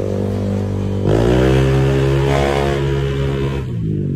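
Honda Click 125 scooter engine, tuned to sound like a Yamaha NMAX, revving loud and close, its pitch rising sharply around one second in, holding steady, then easing off toward the end.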